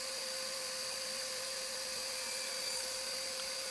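Table saw fitted with a dado stack cutting into wood for mortise and tenon joinery on a cabin door, a steady high whine running continuously and loudly throughout with no voices.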